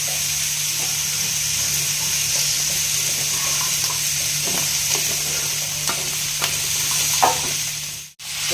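Poppy seeds with a little salt are lightly fried and stirred in a pan for phool posto. A constant close sizzle runs throughout, with occasional scraping stirs, then a brief dropout near the end.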